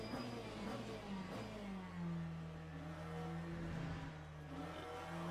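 Race car engine in Le Mans Ultimate, the racing game, revving and shifting with a whirring mid-pitched drone that rises and falls steadily, moderately quiet under faint background sound.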